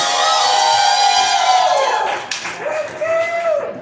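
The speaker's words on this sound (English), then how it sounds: "get even a bigger round of applause for your headliner tonight." A comedy club crowd applauds and cheers for the night's headliner, loud dense clapping with whoops and shouts close by, fading slightly toward the end as voices rise above it.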